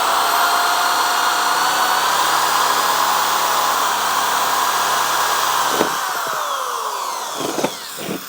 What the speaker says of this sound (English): drill a hole directly in the center of this cereal bowl